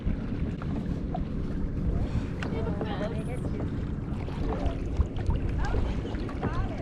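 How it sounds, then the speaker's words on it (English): A kayak is paddled across calm water in Glacier Bay, with soft splashes and dips of the paddle under wind buffeting the microphone and a voice talking nearby. "now let's go paddle"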